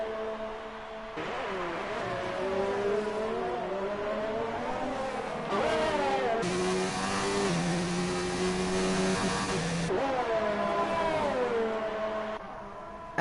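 F1 2019 race car engines on PS4 at the Russian Grand Prix, a car leaving the pits on soft tyres: continuous high whining engine tones rising and falling through gear changes, fairly loud and steady, without voices.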